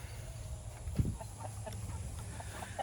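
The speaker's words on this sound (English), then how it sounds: "I have 3 types of chickens out here on pasture" A pastured breeding flock of chickens clucking softly in the open, scattered short calls over steady low background noise, with one louder thump near the start.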